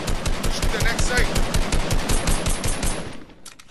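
Rapid automatic gunfire in the video game Fortnite, a loud continuous burst of shots close up that stops just before the end.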